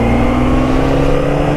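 A new blue motorcycle rides with a steady, loud engine drone and low harmonic hum that holds constant throughout, close and continuous with no talking.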